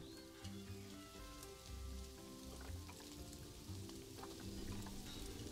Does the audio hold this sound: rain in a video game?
yes